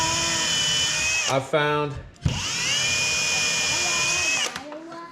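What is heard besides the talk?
power drill pre-drilling screw holes in wooden beehive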